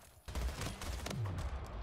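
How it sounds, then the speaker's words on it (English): Two guns fire together in the video game Splitgate, a dense close burst of rapid shots starting abruptly and continuing to the end. "That's what two guns feels like."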